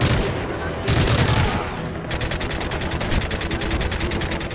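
Rapid gunfire in a Modern Warfare 3 Spec Ops mission: dense bursts give way to a steady, fast automatic stream of evenly spaced shots, loud and close.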